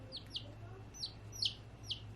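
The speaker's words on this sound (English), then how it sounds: "if you guys hear chickens, just accept it because they're cute" Soft, high chirping peeps from a chicken, about five short calls spaced unevenly, close but quiet over a low background hum.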